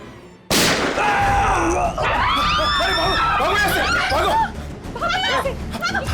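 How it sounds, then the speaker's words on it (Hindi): A single sharp gunshot cracks out, immediately followed by raised, agitated voices and commotion. "अरे अंदर गोली चली अंदर।"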